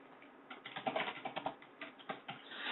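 Someone types on a computer keyboard in an office setting, a quick, irregular run of soft key clicks with short pauses, close and fairly quiet, with no one talking.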